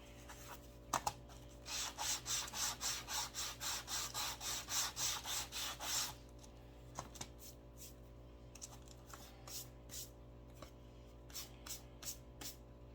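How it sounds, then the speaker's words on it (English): A craft shark is sanded to rough up its surface: a fast, steady run of about a dozen close rasping strokes, then scattered lighter rubs after a pause, with no talking. "Sand the shark down too a little bit just to rough it up."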